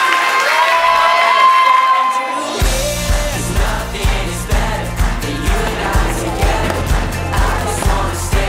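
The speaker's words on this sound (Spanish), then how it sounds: "Démosle un aplauso a los nuevos esposos." Wedding guests cheer for the newlyweds, a loud burst of shouts and whoops that gives way to a steady thumping music beat with the crowd still cheering over it.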